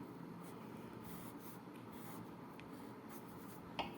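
Quiet scratchy marker strokes on a board while a network protocol layer diagram is drawn, soft irregular squeaks and rubs with a brief tap near the end.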